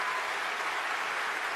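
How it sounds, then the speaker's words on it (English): An audience applauds a speech by Al Gore, a brief unbroken wash of clapping at an even level, fairly quiet and with no voices over it. "the audience applauds and applauds"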